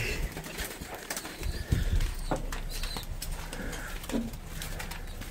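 Pigeons coo nearby and a short burst of wings flaps close up, echoing inside a pigeon loft among rustling and shuffling.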